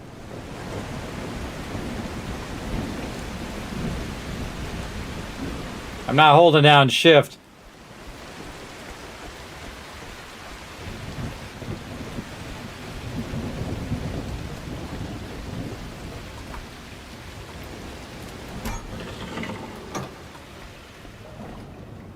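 Steady rain hisses and low thunder rumbles through a nighttime storm in The Last Caretaker, with a short loud tonal burst midway and someone talking quietly over the downpour.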